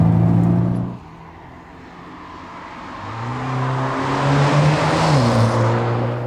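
A BMW M135i F40 1 Series accelerates, its engine note sliding down after a shift near the start and then climbing steadily in a smooth, sustained drone, heard from inside without talk.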